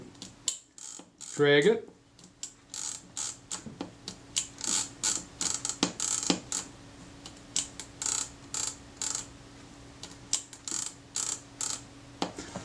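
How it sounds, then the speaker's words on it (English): The sprocket wheel inside a Kodak Retina I type 126 camera is turned by thumb, producing a run of crisp, close mechanical ticks and ratcheting clicks in short regular bursts, with a brief spoken remark early on. "I'm just rolling the sprocket wheel with my thumb inside the camera as the film would"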